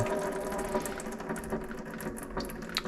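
Hydraulic fluid drains from a removed dump truck hydraulic cylinder in a steady, close gushing and splattering pour that runs continuously without pause.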